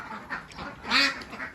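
Laying ducks on a duck farm quack in a short close burst, one loud nasal call among softer ones, with no talk over them.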